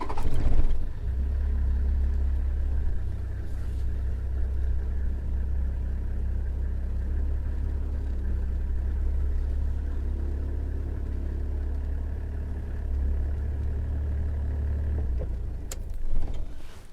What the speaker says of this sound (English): Let me just try to drive a little bit closer.